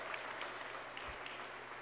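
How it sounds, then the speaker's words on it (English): A morning crowd gathered for an event on clean hydro investment applauds a local town supervisor, steady dense clapping that holds evenly at moderate level for the whole moment, with no voices over it. "Please give Steve a nice warm round of applause."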